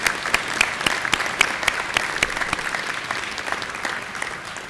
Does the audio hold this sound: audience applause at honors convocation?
yes